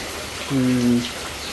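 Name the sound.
rain falling in a Jaffna village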